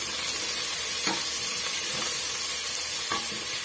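Chopped tomato sautéing in a pan for a Tamil bottle gourd kootu, a continuous close sizzle and hiss with a few soft stirring scrapes of a spoon against the pan.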